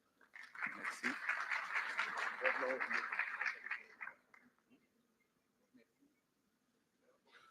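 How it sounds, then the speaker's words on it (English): Applause from a conference audience at a live event as a speaker is welcomed to the stage, a dense burst of clapping lasting about four seconds before fading to near silence. "Norman Ferry, la parole est à vous, sous vos applaudissements."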